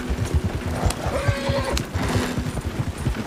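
A horse whinnies over a steady clip-clop of hooves, apparently a horse pulling a passenger cart on a road, loud and close throughout with no talk.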